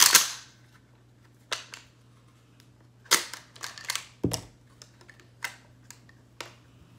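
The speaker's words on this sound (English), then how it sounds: "I'm gonna pull that button and it allows me to unload the gun without firing." Sharp metallic clacks and clicks of a pump-action shotgun being unloaded with the action release button, several spaced close mechanical snaps and rattles with quiet gaps between, no talk.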